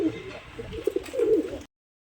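Pigeons in a seller's loft cooing in low, rolling bursts close by for about a second and a half before the sound cuts to silence.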